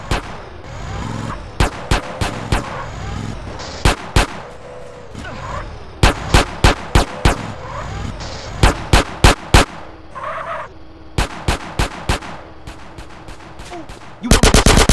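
Bursts of gunfire in GTA San Andreas during a National Guard base robbery: loud, sharp volleys of shots in irregular clusters over a steady game background, ending in a dense rapid burst.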